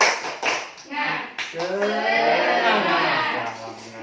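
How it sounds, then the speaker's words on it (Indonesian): A school class performs a rhythmic spirit clap, a quick burst of sharp hand claps followed by voices chanting together, close and lively. "Tepuk semangat."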